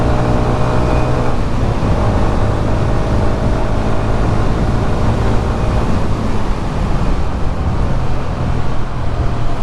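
A Honda Hornet 125 motorcycle runs on the road, its engine a steady, loud, continuous drone without clear pauses or breaks, with no talking over it.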